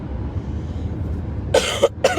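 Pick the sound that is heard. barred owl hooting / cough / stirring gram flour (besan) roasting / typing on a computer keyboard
cough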